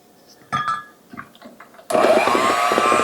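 An electric mixer whirs into a steady, loud hum as it beats yellow cake batter in a bowl, preceded by a few short clunks and scrapes of the beaters against the bowl.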